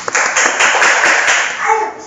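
A short, loud burst of clapping and applause sounds close by during a Portuguese-language HTML table coding lesson, lasting about two seconds before fading.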